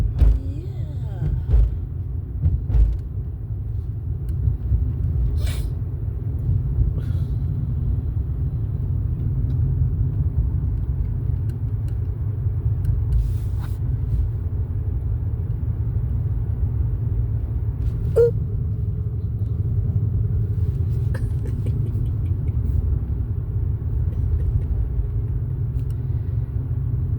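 Low, steady road rumble fills a car interior during a drive with dogs aboard, a continuous close drone with occasional faint clicks and no clear speech.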